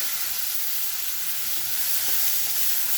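Onions sizzle steadily in hot oil in a pan for a Bengali stingray curry, a loud, continuous bright frying hiss with faint stirring and no talk.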